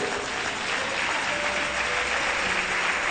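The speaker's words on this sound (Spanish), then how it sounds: "dele un aplauso fuerte" A church congregation gives a strong round of applause during a worship service, a continuous dense clapping that stays steady and fairly distant.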